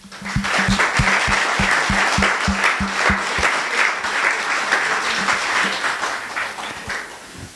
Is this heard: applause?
yes